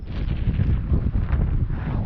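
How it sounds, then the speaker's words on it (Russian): Strong wind gusts roar steadily across an open taiga lake, buffeting the microphone in a continuous low rumble with no voices. "Вон ветер дует оттуда"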